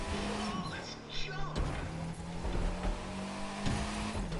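A 2018 Fiat 500 engine hums steadily in The Crew 2, shifting pitch slightly as it revs, with someone talking over the constant motor drone.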